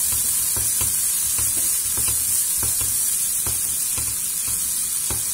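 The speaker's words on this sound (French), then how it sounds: "Je vais faire revenir les oignons avec la gousse d'ail." Onions and a clove of garlic frying in a large pot, giving a loud, close, steady sizzle broken by regular scraping knocks from stirring, about a dozen in five seconds, with no voices.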